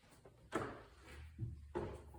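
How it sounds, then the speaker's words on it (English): An IKEA pull-out pantry drawer in a kitchen slides and thumps, giving several short, quiet knocks and runner rumbles close by in a quiet room. "Also pull-out drawers."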